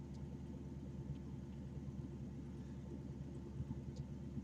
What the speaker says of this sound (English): microphone is sensitive enough to pick up that damn motor running